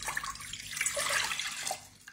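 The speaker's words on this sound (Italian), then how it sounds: "Comincio con 600 g di acqua, li metto nella pentola" Water pours steadily into a cooking pot while making a quick polenta snack, a close, hissing splash with a brief trickle near the end, no talk over it.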